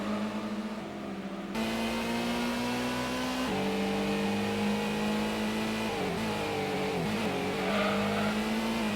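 Racing cars drift in Gran Turismo on the PS1, with a constant engine drone that shifts pitch as the cars rev, plus some tire squeal, loud and continuous without speech.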